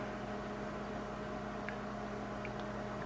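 A steady electrical hum with a low drone runs throughout, like a microwave oven operating nearby, with faint clicks near the end.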